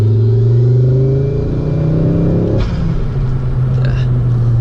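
A Mk2 Ford Focus ST's turbocharged engine pulls hard under boost, a loud steady drone from inside the car that shifts character partway through.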